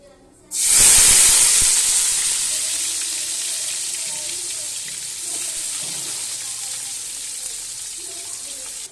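Vegetables fry in hot oil with a loud, steady sizzle that bursts in abruptly, then settles into a continuous bright hiss, close and alone, with no talking.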